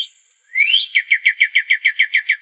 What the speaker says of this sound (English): the chirping of birds